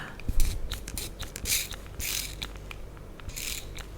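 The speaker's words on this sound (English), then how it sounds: "This is a plastic spray bottle" A plastic spray bottle is pumped several times, each trigger pull giving a clicky mechanical squeak followed by a brief hissing spray, close and fairly quiet.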